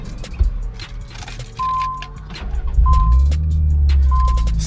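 Nissan 350Z car engine cranking and starting, warning chimes sounding in between, then the engine catches and settles into a close, steady idle.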